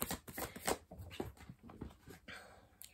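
Tarot cards are shuffled by hand in quick, papery riffles and slides, close and fairly soft, with a dog briefly whimpering in the background and no talking.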